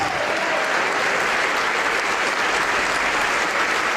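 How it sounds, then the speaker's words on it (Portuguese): Church congregation applauding loudly and continuously, a dense, even roar of many clapping hands with no break. "vamos aplaudir mais"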